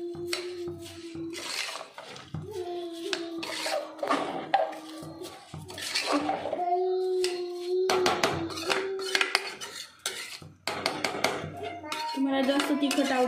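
Masala rice being stirred in a metal pot, repeated scraping clinks and knocks of a spoon against the pan in an irregular rhythm, close and clear, with a tonal hum underneath.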